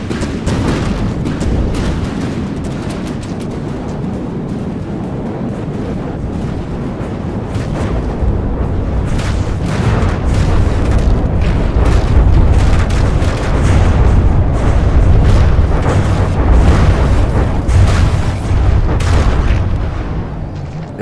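Missiles strike ships in a video game naval battle, producing a long, loud, continuous barrage of booming explosions and crackling blasts that grows denser and heavier in the second half, with no talk over it.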